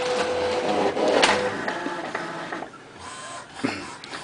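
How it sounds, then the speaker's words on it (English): A printer runs a print job with a continuous mechanical whir and rattle. Brief louder bursts rise and fall as the paper feeds, heard close and alone. "The printer is active."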